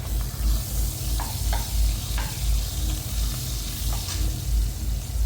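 Mutton fat with a pinch of salt sizzling steadily in a hot pan while being stirred, with a continuous frying crackle and a few soft scraping stirs, close and without talk.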